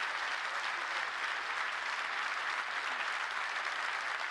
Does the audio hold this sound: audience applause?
yes